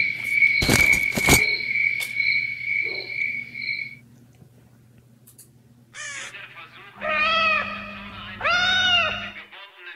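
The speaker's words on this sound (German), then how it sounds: "Katzen." Cats meowing in the night-time zone of the video game S.T.A.L.K.E.R.: Shadow of Chernobyl, several drawn-out wavering calls rising after a loud crack and droning ambience, the last two meows close and clear.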